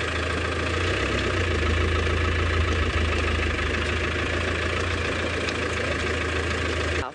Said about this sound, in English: Just let the engine run for a little bit.